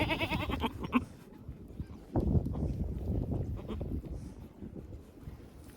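A goat in a forest, with a newborn kid, bleating in a few short, raspy calls near the start, followed by rustling and scuffling movement that continues through the rest.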